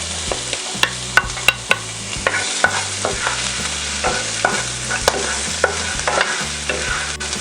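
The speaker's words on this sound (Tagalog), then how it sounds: "Ngayon po ay pwede na nating gisahin itong ating bawang." Garlic sautéing in a pan for papaitan, a loud sizzle punctuated by rapid rhythmic metallic clacks and scrapes of a spatula stirring against the pan bottom.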